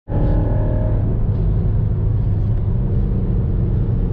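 A car cruising down the road on the way to a track day, its engine a steady, loud, low rumble throughout with no talk.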